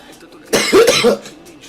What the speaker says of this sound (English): the fact that I was coughing was setting off my coughing.